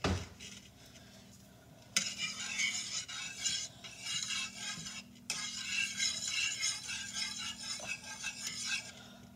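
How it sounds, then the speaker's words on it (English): A whisk beats rapidly inside a bowl on the stove at medium heat, making a fast, scratchy metallic clatter in bursts with short pauses, close by and fairly quiet. "Let's keep using the whisk"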